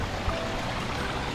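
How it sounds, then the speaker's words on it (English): A babbling brook flows out of a cave in Roaring River State Park, Missouri, a steady close rush and trickle of water heard alone without talk over a short stretch. "all of this water we've been following in this babbling brook"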